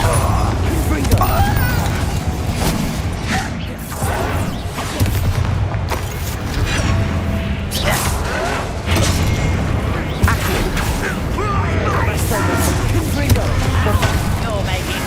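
Confringo fire-spell blasts in Hogwarts Legacy combat, with repeated loud booms and thuds at an irregular pace over music and battle noise, while voices talk throughout.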